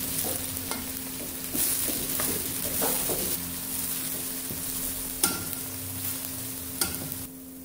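Steady close sizzling of onions frying in hot oil for methi dal, with a few sharp clinks of a utensil against the pan.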